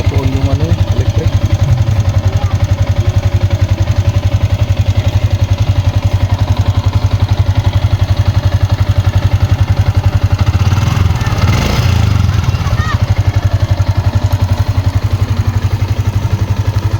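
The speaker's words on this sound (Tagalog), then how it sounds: "napa-start na nga ni sir yung kanyang motor" A Yamaha Sniper 150 motorcycle idles steadily after starting on a DIY LiFePO4 battery, a close, loud, rapid engine pulse with a rattling clatter that runs unbroken throughout.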